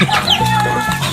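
Close, loud clucking from chickens in quick, uneven bursts over a busy farmyard background.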